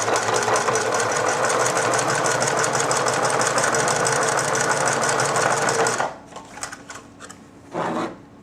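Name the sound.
sewing machine stitching a fabric seam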